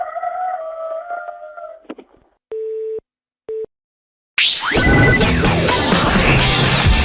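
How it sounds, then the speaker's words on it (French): A rooster crows over a telephone line during a radio prank call: a wavering, crowing call, then short busy-signal beeps, followed by a loud burst of dense noise. "Est-ce que je peux parler dans l'oreille de votre coq?"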